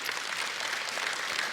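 A church congregation applauding during a Filipino-language sermon, a dense, steady burst of clapping from many hands, loud and close, with no speech over it.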